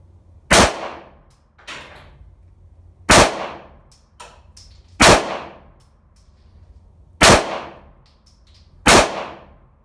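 Five pistol shots fired at an outdoor range with a Gowutar A20 red dot mounted, sharp loud cracks spaced about two seconds apart, each trailing off in a brief echo, no talking.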